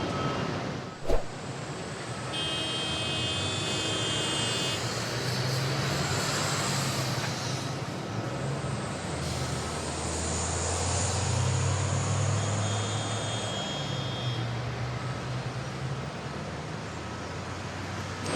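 Busy street ambience outside a store in Singapore: a constant wash of traffic rumble and hum with distant vehicles passing, a sharp knock early on, and faint tonal sounds drifting in and out.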